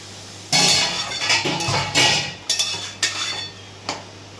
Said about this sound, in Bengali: আমি এবার ঢাকাটা খুলে নিলাম